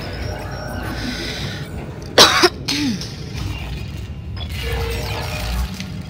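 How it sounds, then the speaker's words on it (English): A single sharp cough bursts out near a headset mic, short and loud, over a steady low background rumble with faint mechanical clicks from Dead Space 2 gameplay. "Trying to cough away from a mic doesn't really help when the mic's like attached to headphones"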